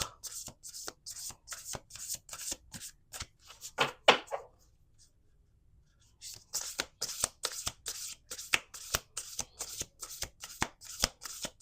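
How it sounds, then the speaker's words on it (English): Rapid bursts of cards being shuffled, crisp riffling snaps in quick runs, with a short quiet pause midway before the shuffling resumes. "Let's do 2 more shuffles."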